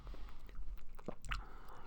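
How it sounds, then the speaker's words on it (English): Close, crunchy chewing of edible almonds in an ASMR-style eating session, with irregular bites and soft crunches repeating over a low background hum. "Canadian girl eats edible almonds."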